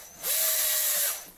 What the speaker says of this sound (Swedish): Man trycker in den först i gummit, trycker ner den, vinklar lite borrmaskinen.